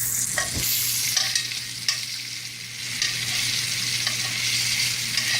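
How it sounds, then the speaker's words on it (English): Bacon sizzles and crackles steadily in hot grease, with a few sharp clicks and scrapes as tongs turn the strips, close and fairly loud throughout. "The saute tonight's going to be in this bacon grease."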